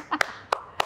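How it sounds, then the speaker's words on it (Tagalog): Applause welcoming a guest on a faith-centered talk show, heard as a few sharp, separate hand claps spaced out over under a second, close and fairly loud. "Lakasan natin palakpak."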